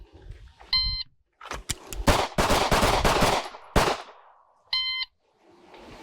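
Pistol gunfire on a range during a CLEET shooting qualification drill: a rapid string of close, loud shots fired between two electronic start and stop beeps.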